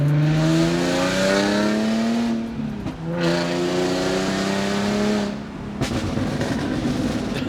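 Infiniti G37 with a loud 370 hp build and catback exhaust, heard while driving: the engine climbs in pitch through two long pulls, drops sharply at each gear change, then starts a third, loud and close.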